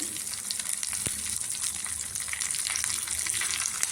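Garlic, dried red chillies, small onion, cumin, fenugreek and curry leaves frying in a pan, a constant bubbling sizzle with a single sharp utensil tap early on, close and even, no voices.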